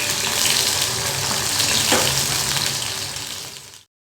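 Potatoes being fried for a home-cooked dish sizzle steadily in a pan, a dense continuous crackle with a brief stir partway through, close and loud, ending abruptly.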